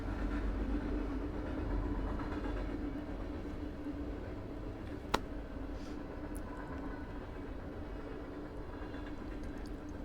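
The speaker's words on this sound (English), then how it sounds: "there's a train in the background" Train rolling past in the background: a steady, distant rumble that holds throughout, fairly faint, with one sharp click midway and no voices.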